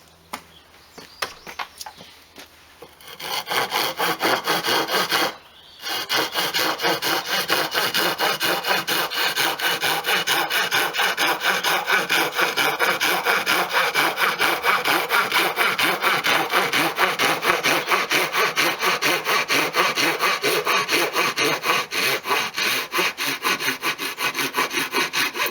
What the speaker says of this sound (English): Just get my saw and trim it off.